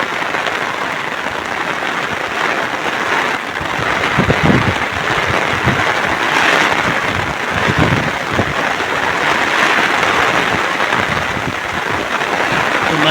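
Steady rain falls in wind-driven hills, a dense even hiss with patter and occasional gusty swells, continuous and fairly loud throughout.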